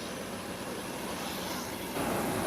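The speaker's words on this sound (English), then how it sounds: "aircraft taxiing out to take off" A small aircraft taxiing out for takeoff at an airport gives a steady, distant engine drone with broadband rumble that swells slightly toward the end.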